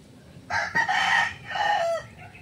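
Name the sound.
Red Kelso gamecock rooster crowing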